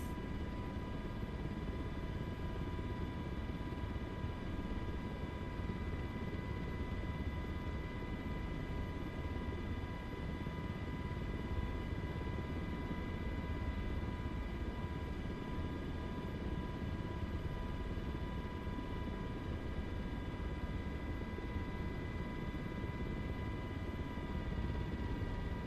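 Steady, continuous rotor and engine drone of an MH-60 helicopter in a flight simulator game, holding a constant loud hum with tonal whine throughout and no talk.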